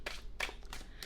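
Four quick, soft papery swishes of Light Seer's tarot cards being shuffled by hand, close by and quiet, all within about a second.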